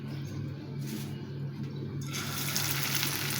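Chicken pieces are lowered into hot soybean oil and start frying. A steady hiss swells into a loud, broad sizzle partway through, close by, with no talking.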